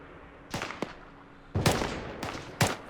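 Several sharp gunshots ring out in an alternate-history Second Korean War combat game at a bridge. The cracks come in irregular bursts of one or two against a quiet background.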